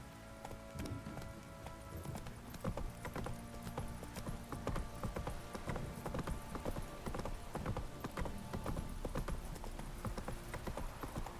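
Roach, a horse in the video game The Witcher 3, trots with a steady, close clip-clop of hooves throughout, over a soft background wash and faint game music.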